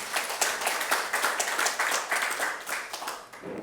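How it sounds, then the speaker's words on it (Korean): Rhythmic clapping from an audience at a gathering of former Gangwon Province residents, fairly soft and moderately distant, with distinct claps pulsing steadily before tapering at the end. "여러분 큰 박수 한번 주세요"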